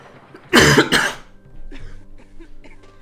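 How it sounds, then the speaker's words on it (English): A single strong cough bursts out, a harsh double hack close to the mic, followed by quieter room noise and faint background sounds from a Caesar 3 city-building game. "Sorry for the cough, but as I said, I'm still not great, so it's possible that I'll still be coughing."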